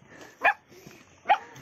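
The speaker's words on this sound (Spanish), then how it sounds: "Está ladrando." A dog in a small Andean mountain village barks twice, sharp separate yaps close by, with faint background sound between them.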